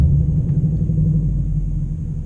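A loud, deep car engine with its mufflers chopped off rumbles steadily at a track day, a continuous low drone with no talking.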